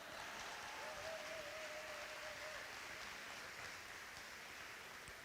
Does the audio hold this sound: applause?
yes